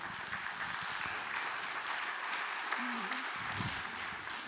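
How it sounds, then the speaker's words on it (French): A seminar audience at an occupational health and safety conference applauds to welcome a speaker, a faint, steady wash of many hands clapping from a distance, with a brief voice rising over it near the middle. "On vous accueille avec beaucoup de plaisir en vous applaudissant, bien sûr."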